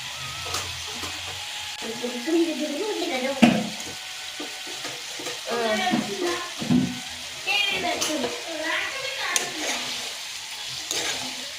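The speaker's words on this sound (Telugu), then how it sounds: "చూడండి నీళ్ళు అయితే మరుగుతున్నాయి కదా" Bubbling and sizzling Manchurian sauce in a pan with fried Manchurian balls, heard under people talking, with occasional clinks of a utensil.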